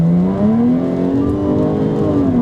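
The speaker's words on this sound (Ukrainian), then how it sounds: "ставимо коробку в спорт, включаємо спортивний режим, вмикаємо вихлоп активний, ну і пробуємо стартувати" A 2018 Jaguar F-Type with a supercharger revs hard as it launches in sport mode with active exhaust on, a loud, continuous exhaust roar rising in pitch, close up with no talking.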